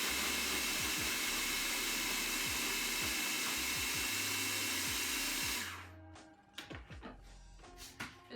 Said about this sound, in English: your food processor is plugged in, go ahead and put it to the first speed setting.